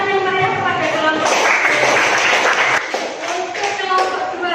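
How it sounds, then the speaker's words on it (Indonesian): A classroom group gets a burst of clapping from fellow students, dense and lively through the middle, mixed with voices. "Beri tepuk tangan yang meriah kepada kelompok."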